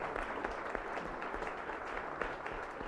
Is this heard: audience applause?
yes